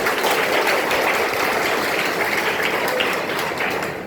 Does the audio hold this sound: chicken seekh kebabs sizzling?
no